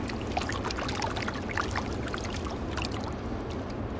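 River water rushes and splashes as a salmon is rinsed in the flow, a steady close wash of broadband water noise with small splashy bursts throughout.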